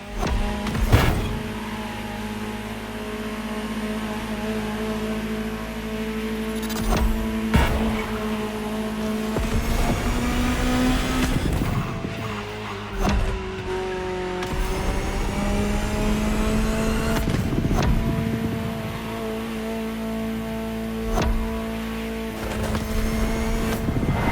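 A high-revving Ferrari supercar engine in The Crew Motorfest drones and climbs through gears, with sharp shifts and rising whines, loud and continuous throughout.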